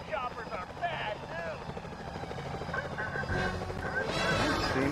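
In Sly Cooper: Thieves In Time, the steady, pulsing rotor beat of a security helicopter runs beneath busy game music and effects, growing slightly louder toward the end, with a voice talking over it.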